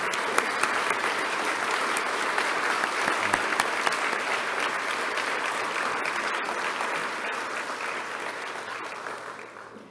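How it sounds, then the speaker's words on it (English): Dense, steady applause from a large audience fills a teachers' recognition ceremony in New South Wales, a continuous roar of many hands clapping at even strength for the full ten seconds before easing slightly at the end. "And a huge round of applause, please, for the lead teachers."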